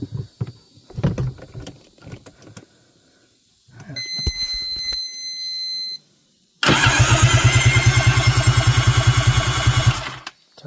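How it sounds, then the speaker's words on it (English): Small engine of an X2 cranking over strongly after a solenoid swap, a loud, steady rapid chugging rhythm lasting several seconds, preceded by clicks, handling noises and a brief electronic tone. "Turns over pretty good."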